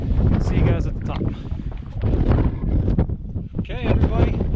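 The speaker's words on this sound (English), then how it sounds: "it's super windy" Strong wind buffets and roars against the microphone in heavy gusts on the summit of Mount Moosilauke, with a voice talking underneath the blustering noise.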